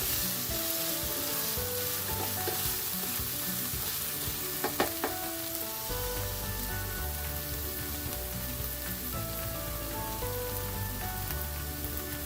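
Garlic fries gently in a pan for a coconut dry chili prawn masala, giving a steady, close crackling sizzle with a couple of brief clicks partway through.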